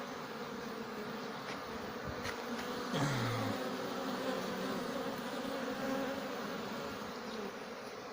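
Honey bees buzzing at the hive entrance as they carry pollen in, a steady dense hum with one bee passing close by, faint and continuous with no talking.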